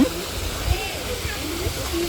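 Water pours from above into a swimming pool at a summer swimming park, a continuous rushing splash like a small waterfall, with voices in the background.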